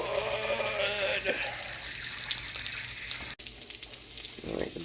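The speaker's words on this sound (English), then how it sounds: "Butter's melting. Salmon's cooking." Butter melts and salmon fries in a pan with vegetables, giving a loud, continuous sizzle and hiss close by that drops away briefly before resuming.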